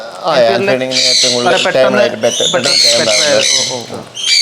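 Sun conure parrots at a pet bird park let out loud, harsh squawks up close, calling repeatedly in rapid overlapping bursts.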